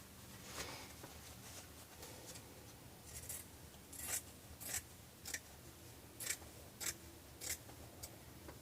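Scissors trim the excess fabric from a sewn zipper pouch, producing a series of crisp snips spaced roughly every half second to second, close and fairly quiet over a soft rustling background.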